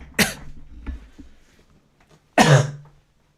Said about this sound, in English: Oh god, this cough.